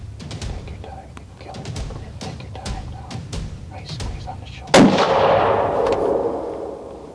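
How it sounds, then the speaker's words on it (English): During an evening deer hunt, soft whispering and rustling come before a single sharp, loud rifle shot at a buck, followed by a long rolling echo. "I ended up shooting with a rifle."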